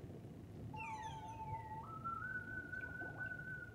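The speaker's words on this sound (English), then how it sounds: "here you guys get to see the sea whistle in action." A sea whistle in the underwater game Endless Ocean Blue World sounds as a faint, clear rising whistle tone that holds steady and then steps higher over a soft, low ambient wash.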